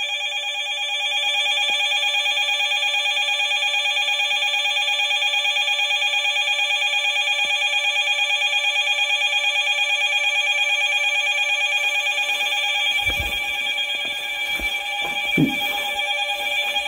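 A telephone ringing in a derelict motel, a loud steady electronic ring holding for about twelve seconds before handling noises and brief knocks break in.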